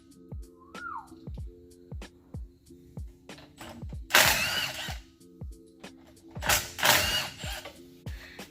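Ratchet driving GP Duo sockets on bolts while pulling the 5R110 transmission from a 2003 Ford F-350: repeated close ratcheting clicks in steady bursts, with two louder harsh clattering spells midway and near the end.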